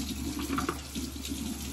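Tap water runs into a sink while a makeup sponge is washed, a brief, soft, steady splashing with no voices.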